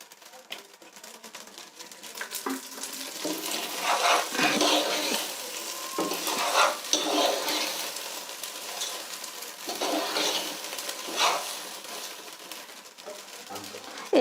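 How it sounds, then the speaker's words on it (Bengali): Rice and lentils fry in a little oil for khichuri, giving a soft, uneven sizzle broken by repeated scraping stirs of a spoon against the pot. "তো আবারও আমি চাউল আর ডাউলকে ভালো করে ভেজে নেব।"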